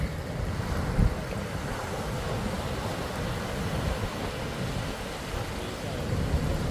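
A boat pushes through rough ocean waves, with steady wind buffeting and water rushing and slapping against the hull at close range, and one sharp thump early on.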